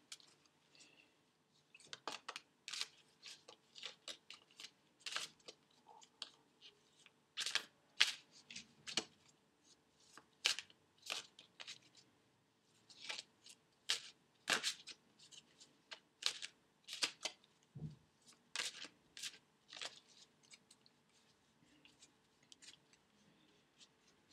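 Oracle cards shuffled by hand for a tarot reading, a quiet run of crisp papery riffles and flicks in irregular bursts over about twenty-four seconds, close up and with no talking.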